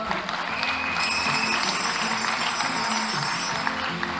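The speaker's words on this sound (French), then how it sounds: "Encore une fois, sous vos applaudissements, elle est là." Audience applause at the Prix de la Femme Francophone 2022 award ceremony as a winner comes forward, steady and fairly dense clapping across the whole stretch, with a hum of crowd noise beneath it.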